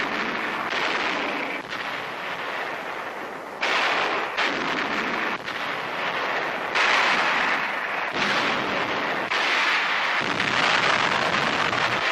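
Heavy United States artillery firing on entrenched Japanese positions on Saipan during World War II, a continuous roar of booming blasts and rumbling reports in dense succession, loud and unbroken, with no talk.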